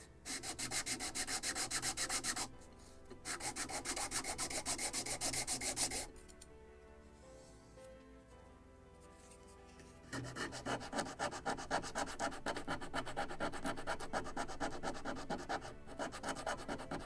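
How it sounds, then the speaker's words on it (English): A wooden plank for a Model Shipways gunboat Philadelphia kit is sanded by hand in long, steady rasping strokes, close and continuous, with a short quieter pause midway. "so I will do the same for this plank. We'll sand it"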